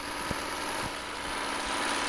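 Car engine in Roblox Brookhaven droning loudly and steadily at high revs, a constant buzzing hum with slight pulses throughout.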